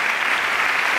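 An audience applauds the Un Certain Regard festival team on stage at the Cannes closing ceremony, a dense, sustained wash of clapping from a large crowd that stays loud and even throughout.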